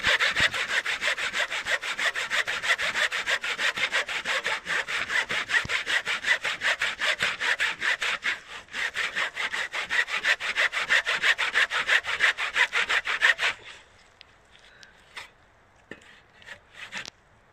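A hand saw cuts through wood in steady, fast back-and-forth strokes, loud and close, for about thirteen seconds before the blade binds and slows to a few scattered scrapes and knocks.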